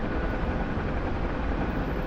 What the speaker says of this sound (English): damn near a 70-year-old helicopter at this point